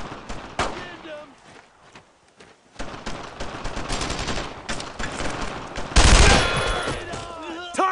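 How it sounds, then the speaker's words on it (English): Machine gun suppressing fire in a World War II video game battle, with loud rapid bursts and scattered gunshots repeating throughout, over shouted soldier voices. "I need suppressing fire! Firing! Suppressing fire!"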